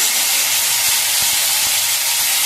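Ground cumin, ginger and chili paste go into a hot pan for a shrimp dish, giving a loud, steady, close-up sizzle and hiss that continues without a break.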